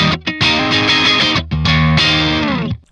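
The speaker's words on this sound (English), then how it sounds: "this guitar sounds so good" An electric guitar with Strat-style pickups played with a thick, slightly driven tone, a few sustained chords and notes ringing out before fading, no voices.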